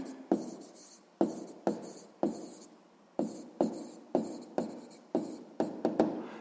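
A pen writes out a math answer on paper in a quick series of about a dozen short, scratchy strokes at an uneven pace, close by and with no voices.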